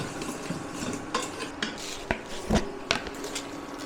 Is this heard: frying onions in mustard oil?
yes